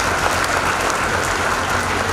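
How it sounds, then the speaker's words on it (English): Steady, dense applause from a graduation ceremony audience at a medical sciences institute, a crowd clapping continuously and fairly loudly with no talk over it. "I would like to clap for yourself for graduating and becoming the doctors"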